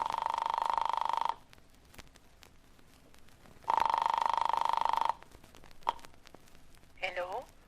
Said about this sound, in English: I flicked the telephone dial to the number in her note.